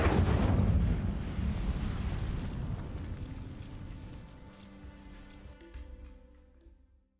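A fire spell cast in a video game bursts out as a loud, roaring flare of flame that crackles and slowly dies away over several seconds.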